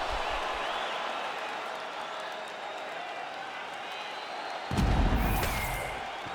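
A video-game arena crowd in UFC 5 on PS5 roars steadily as a fight round begins, swelling louder with a thump near the end.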